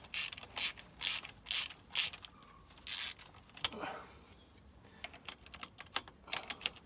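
A ratchet socket wrench clicks in short bursts during an engine teardown of a track car, several quick ratcheting runs close by, followed by scattered metallic clinks and taps.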